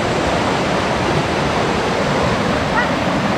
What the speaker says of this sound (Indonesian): Ini dia airnya deras banget guys.